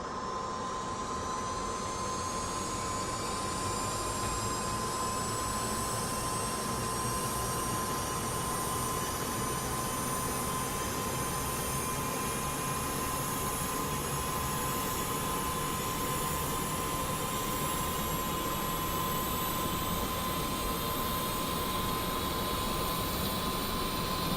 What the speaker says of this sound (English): go ahead and get the aircraft started up